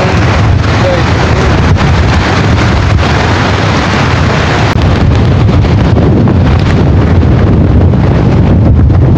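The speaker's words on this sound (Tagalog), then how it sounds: "Ang lakas ng hangin." Strong typhoon wind roars and buffets the microphone continuously, a loud, dense rumble with gusty surges throughout.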